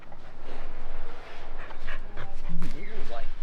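A happy dog pants rhythmically in a pottery studio, close by, letting out a few high whimpers and yips, while people talk and coo over it.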